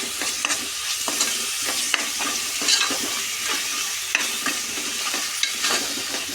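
Onions and ginger paste fry in a pan with a continuous close sizzle, punctuated by regular scraping and tapping strokes of a spoon stirring, no voices present.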